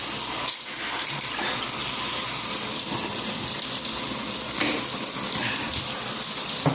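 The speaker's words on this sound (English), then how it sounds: "And here's the shower." Water runs steadily from a newly installed shower valve, a continuous broadband hiss and splash that stays constant and fairly close throughout, with no talking.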